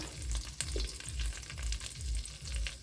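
Dried fish (buwad) fries in a pan, giving a soft, even sizzle with low rolling bursts of bubbling oil that rise and fall in a loose rhythm, fairly quiet and close, with no talking.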